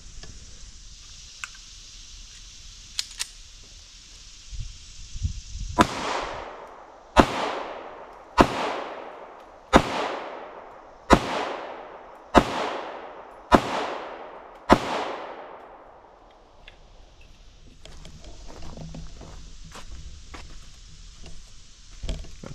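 Eight sharp gunshots ring out at a target shooting range, evenly spaced a couple of seconds apart, each loud crack trailing off in a short echo, with quiet outdoor background before and after.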